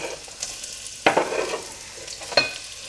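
Chopped onions dropped into hot coconut oil in a pot over medium heat give a soft, steady sizzle, with sharper bursts of stirring and clatter near the one-second mark and again near the end.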